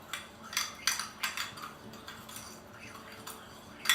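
Pepper and garlic powder are stirred together in a small bowl. Quick, light, rhythmic clinks and taps of a utensil against the dish come in short bursts, close and fairly soft, with no talking.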